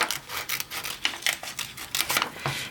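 Scissors snip through paper while a tea kettle spout shape is cut out, a close series of quick rasping cuts in an uneven rhythm with no talking.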